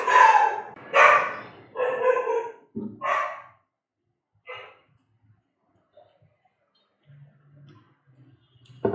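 A dog barks and yelps in several loud bursts close by, apparently at a delivery person arriving, followed by quiet with faint scattered sounds.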